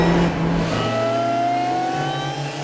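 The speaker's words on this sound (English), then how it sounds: "you get to hear it echo off of the hills and off the trees" A supercharged Mazda Miata accelerates on a hilly, tree-lined road, its engine note climbing steadily with a faint supercharger whine, loud and close for under three seconds.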